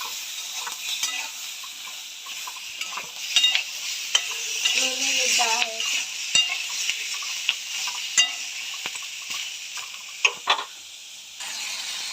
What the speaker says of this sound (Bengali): বেগুনটা একটু ভাজা ভাজা করে নিলাম